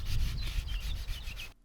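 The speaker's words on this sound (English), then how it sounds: "using emery paper or an abrasive rubber block, I sand the blade to clean it of any rust" A scythe blade is sanded with emery paper or an abrasive rubber block to clear off rust, giving a rhythmic series of about eight quick scraping rubs, close and fairly loud, that stops abruptly near the end.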